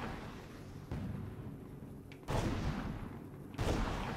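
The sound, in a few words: artillery fire in video game Toy Soldiers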